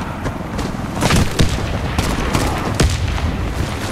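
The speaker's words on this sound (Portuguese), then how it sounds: "Granada!" A grenade explodes during a Warface clan war match: a string of sharp, loud booms and gunfire bursts close together, with heavy low rumble and no talk.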